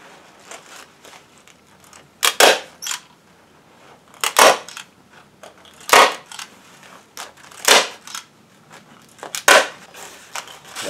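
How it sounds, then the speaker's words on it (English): A stapler fires into a plastic screen on a homemade spotted lanternfly trap, five loud, sharp clacks spaced roughly two seconds apart, with quieter handling rustle between them and no talking. "we're just going to staple that in"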